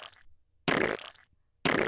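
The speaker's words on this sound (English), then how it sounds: "A bunch of farts." Fart sound effects played on a podcast: a short raspy burst, then two louder, longer blasts about a second apart, clear and close with no talking over them.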